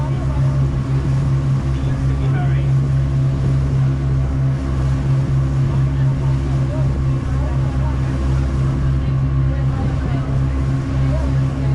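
A steady, loud engine drone with a constant low hum throughout a boat ride to Gili Meno, Indonesia. People talk over it.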